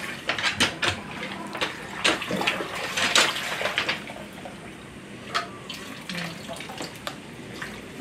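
Water runs from a tap into a container at a home in the Philippines, with steady splashing and irregular spatters, fairly close, while faint voices talk nearby.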